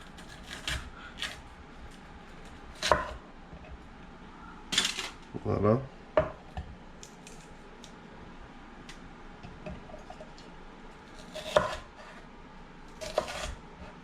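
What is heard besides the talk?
chopping vegetables (mushrooms, peppers, onions) with a knife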